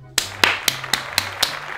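Six sharp, evenly spaced hand claps ring out close and alone at a slow, deliberate pace, with a faint steady hum underneath.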